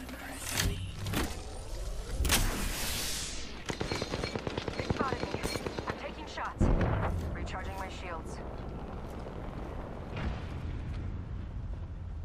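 Game gunfire in Apex Legends during a ranked arena match: bursts of sharp shots and a rapid rattling volley around the middle, with a heavy blast near the end and dense battle noise throughout.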